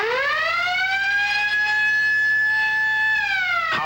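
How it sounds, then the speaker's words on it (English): A home burglar alarm system going off, a loud, piercing siren tone that rises quickly, holds a steady wailing pitch with strong harmonics, then dips near the end before a brief click. "the burglar alarm system will go off"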